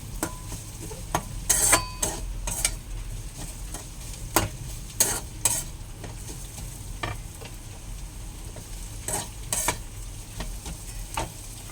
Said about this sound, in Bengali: এবারে আমি টমেটোগুলো দিয়ে দেবো।